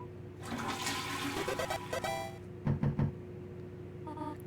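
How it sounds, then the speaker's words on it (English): A cartoonish toilet flush from the video game Deltarune, a bright gurgling swirl of water lasting about two seconds, then a few short knocks, heard alone at moderate loudness over a steady background hum. "You flush the toilet."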